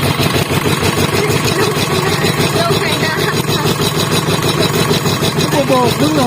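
A steady, rumbling tractor engine chugs nearby in a rice paddy field with a rough idling rhythm, with people talking over it.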